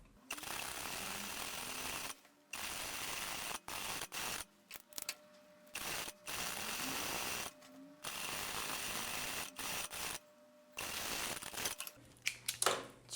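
A sewing machine stitches a narrow folded rolled hem on blouse fabric, running in repeated bursts of a few seconds with abrupt stops between them, a steady mechanical whir close by and no speech.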